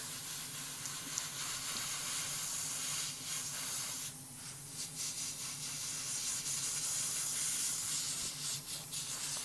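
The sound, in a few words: spray painting plastic model car parts in light coats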